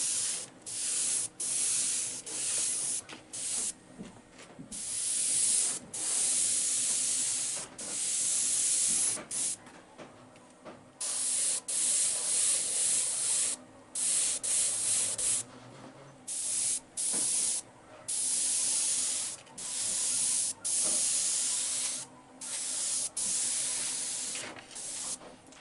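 Spray gun painting a 1934 coupe body, long loud hissing bursts repeatedly starting and stopping with brief pauses between passes, close and steady.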